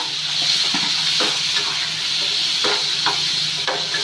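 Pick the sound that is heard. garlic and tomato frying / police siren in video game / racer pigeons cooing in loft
garlic and tomato frying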